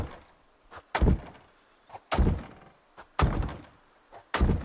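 A wooden garden shed door in the zombie survival game Project Zomboid takes a series of heavy, close thuds, about five booming knocks in an uneven rhythm with short gaps between them.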